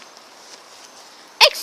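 A single short, sharp dog bark near the end, close and abrupt, after a quiet stretch of faint outdoor background.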